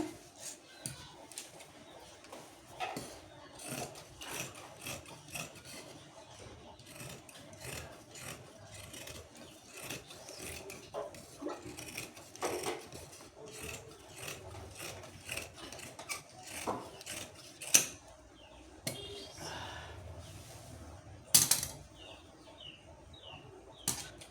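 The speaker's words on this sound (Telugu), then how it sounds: "ఇప్పుడు కట్ చేసుకుందాము." Scissors rasp and snip steadily through blouse fabric along marked lines, a close, quiet run of rhythmic cutting strokes with a couple of sharper clacks near the end.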